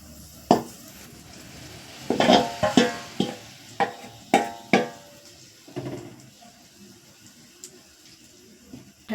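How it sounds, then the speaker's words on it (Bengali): Cauliflower is tipped into a boiling curry and stirred, giving a series of clattering spoon-and-pot knocks and splashes over a soft bubbling background. "ঝোলটা ফুটে গেছে ফুলকপিগুলো দিয়ে দিই"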